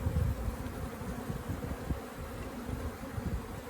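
Honey bees buzz around an opened hive in an apiary during a summer hive check, a dense continuous hum of many wings close to the listener with no speech.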